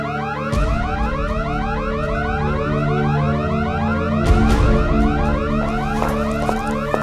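Perimeter alarms ring continuously, a loud repeating electronic siren with a steady rising whoop pattern that dominates throughout, with a brief thump partway through.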